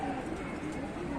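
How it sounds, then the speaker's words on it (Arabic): A domestic pigeon held in hand coos in a short steady stretch of low rounded calls, close and fairly loud over a constant background hum. "في فرد حمام انا ماسكه فاتح له"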